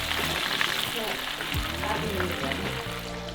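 Mahi fish deep-frying in a Fry Daddy electric fryer, giving a loud, steady, dense sizzle and crackle close up, with bubbling shifts throughout.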